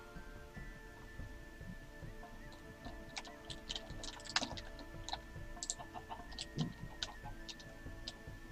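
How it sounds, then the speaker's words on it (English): Chicken clucking from a female chicken in the Minecraft mod TerraFirmaCraft: scattered short, soft clucks and ticks over a steady ambient hum, fairly quiet throughout. "So this is a regular female chicken."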